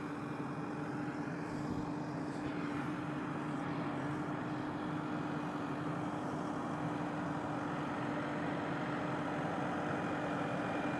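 A good-size tractor drives up onto a hydraulic dovetail gooseneck trailer, its engine giving a steady, loud drone with a constant low hum throughout and no talk.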